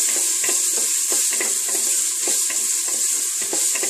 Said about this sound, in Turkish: Rengi değişen ve kavrulmaya başlayan kıymanın üzerine ise biberlerimi ekledim ve kıvırma işlemine devam ediyorum